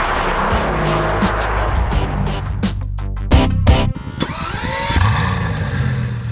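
A Bugatti Veyron Vitesse tears along a high-speed test track, its engine roaring loud and close, climbing through rapid gear changes with sharp pulsing bursts and a brief drop before pulling hard again.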